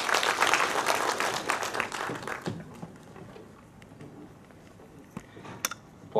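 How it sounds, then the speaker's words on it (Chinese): A seated audience at a lecture event hosted by a government southern service center bursts into dense, loud applause that tapers over a few seconds into scattered claps and quiet room murmur. "掌声欢迎"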